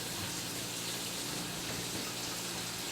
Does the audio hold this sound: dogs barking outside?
no